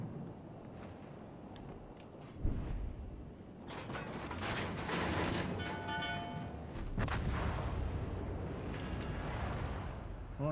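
Warship guns fire in World of Warships Legends, with a sharp report followed by rumbling salvos, mechanical clanks and creaks and a rolling battle din over ten seconds.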